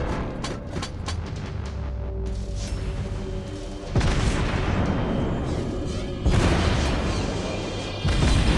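An enemy ship is blown apart in the naval game World of Warships Blitz, with a destroyer in action: loud booming explosions and heavy crashes over a constant roar of battle, and fresh blasts hitting at intervals.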